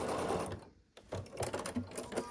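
A sewing machine stitches log cabin quilt block pieces close by in short bursts, pausing briefly mid-clip before running again.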